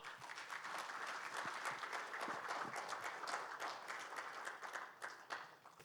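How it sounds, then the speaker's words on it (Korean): An audience at a founding ceremony gives sustained applause to welcome a Catholic archbishop, a broad, even clatter of many hands that carries on for several seconds. "우리 천주교 정순택 대주교님 큰 박수로 모시겠습니다."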